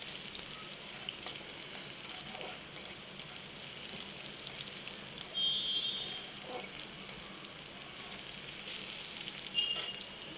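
Chopped onions fry in oil with nigella seeds in a kadai, making a steady, moderately quiet sizzle. The hiss runs continuously for about ten seconds with only light variation and no talking.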